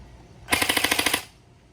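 A stock Lancer Tactical Gen 2 airsoft rifle on a 9.6 volt nunchuck battery fires one short full-auto burst of about ten rapid, evenly spaced snapping shots, loud and close, with no voices.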